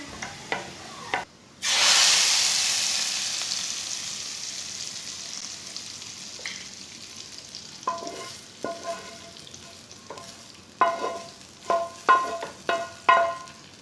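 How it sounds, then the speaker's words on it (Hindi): Chopped onions sizzle and crackle in hot oil for chana dal, opening with a loud burst as they hit the pan, then settling into a steady fry broken by sharp stirring scrapes near the end. "प्याज को ब्राउन कर लेंगे"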